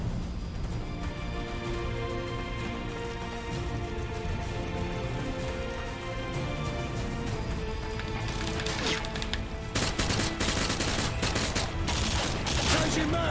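Gunfire in Call of Duty: Modern Warfare 2 online play, dense rapid bursts of automatic shots that keep going and build to heavier volleys near the end, with no speech over it.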